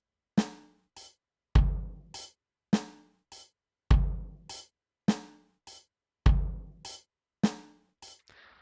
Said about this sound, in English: this is a stereotypical rock beat that you've most likely already heard